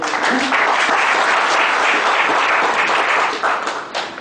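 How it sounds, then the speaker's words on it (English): A hall audience at a valedictory session breaks into loud, sustained applause, dense overlapping clapping that fills the room evenly before tapering slightly at the end. "Big round of applause, everything."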